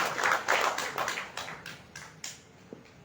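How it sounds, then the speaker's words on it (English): Applause from the audience at a book launch, a small group clapping that starts fairly full and thins out, individual claps growing sparser and quieter until a last few scattered hits. "Can we hear a big round of applause once again?"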